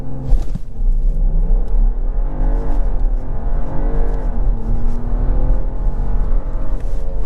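A 2023 BMW 740i, rear-wheel drive, accelerates hard from inside the cabin, its engine note climbing through steady rising tones with a brief shift, a continuous loud rumble throughout.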